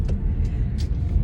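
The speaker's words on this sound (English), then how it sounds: "I'm in the car, like I said" Steady low rumble inside a moving car while running errands, a continuous road and engine drone filling the short stretch, with faint higher hiss bursts on top and no voices.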